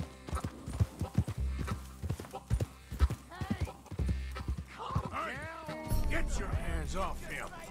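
Horse hooves clip-clop steadily in the video game Red Dead Redemption 2, a rhythmic run of close hoofbeats with a voice speaking over parts of it.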